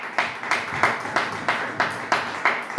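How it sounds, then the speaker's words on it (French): A church congregation at a Sunday service claps steadily in a regular rhythm, roughly three claps per second, loud and close with a lively crowd feel. "On acclame très fort le Seigneur."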